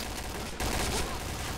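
Rapid burst of automatic gunfire in the shooter game Point Blank, loud and continuous, with a brief cut in the shooting partway through.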